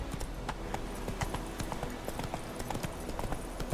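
Roach, the horse in The Witcher 3, trots with steady, crisp clip-clopping hooves at a regular rhythm, close and distinct over a low ambient bed.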